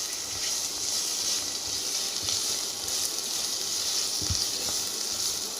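Potatoes, carrots and red and green capsicum with salt sautéing in a karai give off a steady, hissing sizzle throughout, broken by a few soft knocks as they are stirred.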